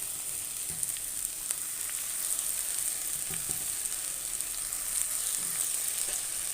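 Onion, garlic and dried chilies frying with jute leaves in a pan give a steady, close sizzle with a few light stirring knocks, and no voices.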